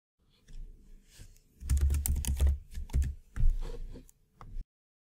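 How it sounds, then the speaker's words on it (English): Code is typed on a computer keyboard in quick irregular bursts of close, crisp keystrokes, with short pauses between runs and no voices. "Let's write some sample code and display it in the browser then."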